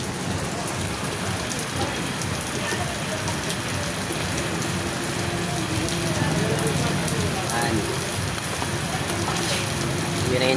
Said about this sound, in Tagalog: Walang tigil ang ulan tapos titigil tapos ulan na naman.